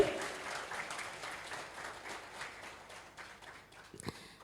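Wedding guests applauding together, a sustained burst of clapping from a crowd that fades over several seconds and ends with a short thump.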